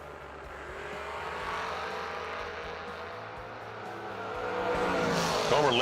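A 1979 Camaro and a Maverick launch side by side down a drag strip, a steady roar of racing engines building louder toward the end with a sharp high squeal near the finish, heard from trackside without talk.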